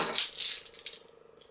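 Keys on a keyring with a Leatherman carabiner bottle opener rattle in a brief jangle. Bright metallic clinks come in quick clusters, then a faint ringing tail trails off, close up and with no talk.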